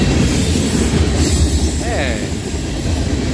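A Norfolk Southern freight train's rolling stock rolls past in Creighton, Pennsylvania, a loud continuous rumble of wheels with a brief metallic squeal, heard close under a short spoken word.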